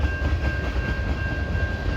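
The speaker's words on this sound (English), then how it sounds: "Quite a few boxcars. And we got a few tankers." CN freight train of boxcars and tank cars rolling past, a steady loud low rumble with faint rhythmic wheel clatter and a constant high tone over it.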